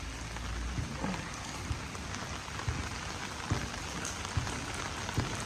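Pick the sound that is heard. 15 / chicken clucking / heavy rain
heavy rain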